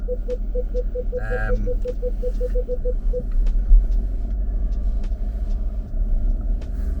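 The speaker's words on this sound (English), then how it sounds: "I'm driving through a really narrow gap to the car park." A car moves slowly through a narrow gap toward a car park. A steady low engine rumble fills the scene, with a brief beeping tone early on and faint outdoor sounds around it.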